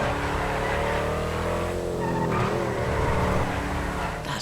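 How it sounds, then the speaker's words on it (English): A Mansory Maserati Levante in the game GTA Online roars with a loud, aggressive engine note, revving hard and rising in pitch, continuous and close. "Really, really aggressive note to that. You can certainly sense the power of the engine underneath."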